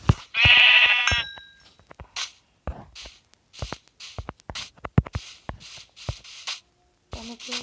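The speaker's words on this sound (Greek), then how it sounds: "Πάμε να σκοτώσουμε το πρόβατο." A loud, close sheep bleat from Minecraft opens the sequence, followed by sparse game clicks, footsteps and small effects, with a fainter bleat-like call near the end.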